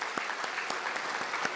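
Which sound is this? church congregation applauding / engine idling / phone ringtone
church congregation applauding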